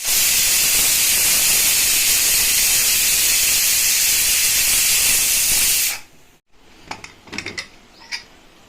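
A pressure cooker on the stove, cooking cluster beans, lets off a loud, steady hiss of escaping steam for about six seconds and then cuts off abruptly, leaving a few faint clicks and knocks.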